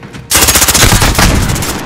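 Rapid automatic gunfire from Modern Warfare (2019) in a Search and Destroy match, loud and dense bursts starting abruptly after a brief quiet moment and continuing steadily to the end.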